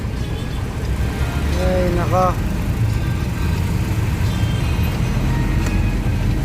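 Stop-and-go road traffic at a roundabout near Dikutan, with cars idling bumper to bumper in a low, steady engine drone and a brief horn-like tone, while a person talks over it.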